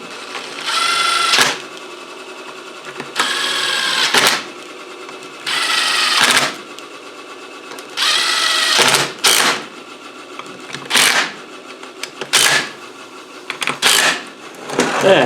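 An air gun tightens bolts on an R380 gearbox in a series of short, sharp rattling bursts with brief pauses between them, close and loud.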